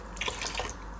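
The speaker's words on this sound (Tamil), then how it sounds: "இப்போ நம்ம அரைச்ச ஜாரை கழுவி அந்த தண்ணியை ஊற்றிக்குவோம்." Water pours and splashes while a mixer grinder jar is rinsed in a home kitchen, a close, steady wet trickle lasting about a second.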